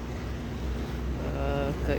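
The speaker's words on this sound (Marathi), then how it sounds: "अशा प्रकारे जहाज चालत असते पाण्यामध्ये" A container ship moves through water: a low, constant rumble with wind and water noise. A faint voice surfaces briefly near the end.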